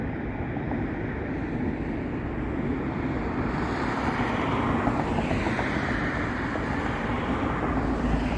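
Steady traffic roar near a restricted airfield area, a broad, continuous rumble of passing vehicles with a faint swell midway, heard close and without any speech.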